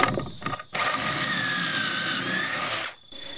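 Drill boring pocket holes into wood through a Kreg pocket hole jig, with a short spin-up followed by a steady high whine of about two seconds that stops abruptly, loud and close, with no talking.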